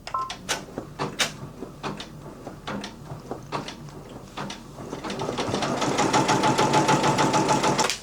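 A sewing machine stitches a tack-down seam on an appliqué tote bag, starting after a few sharp clicks and knocks of handling, then running in a loud, steady, close mechanical whir for the last few seconds.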